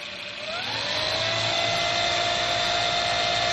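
ULTIMOTOR generator motor spinning up to full speed near 4,000 RPM, a steady rising whine that settles into a constant high-pitched hum, close and continuous with no talk.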